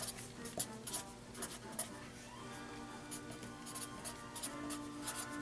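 Pencil or pen writing on paper during a fourth-grade math lesson, soft scratchy strokes coming in short bursts with pauses, quiet and close.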